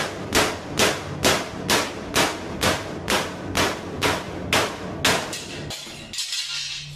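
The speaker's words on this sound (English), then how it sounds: "get your old hammer out and you just start" A hammer strikes a sheet metal HVAC duct about a dozen times in a steady rhythm, knocking off its drives, each sharp metallic knock ringing briefly, then a final scrape and clatter.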